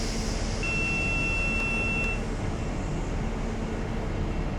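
AWS warning beep in a train cab in Train Simulator 2016, a steady electronic tone sounding for about a second and a half over the constant rumble and hiss of the moving train.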